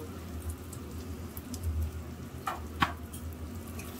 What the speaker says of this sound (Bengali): বাটা মশলাগুলো পুরো ভালোভাবে ভাজা হয়ে গেলে